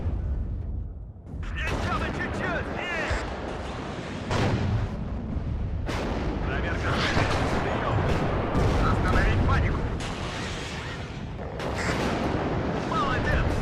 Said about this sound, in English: The artillery is actually brutal because it's really close range, so it's very accurate.